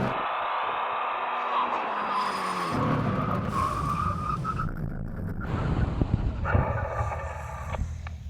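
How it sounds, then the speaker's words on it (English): A Koenigsegg, a Tesla Model S Plaid and a turbo Suzuki Hayabusa make a full emergency stop at the end of a drag strip, with loud sustained tire squeal and skidding over engine and wind noise, tapering as they slow. "When we reach the line, full emergency stop."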